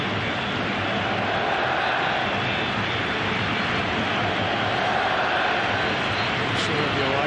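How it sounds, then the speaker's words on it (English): An Australian football crowd fills a stadium at the Australia v Uruguay World Cup qualifier, a loud, steady roar of massed voices with no break. "Listen to the Aussie crowd."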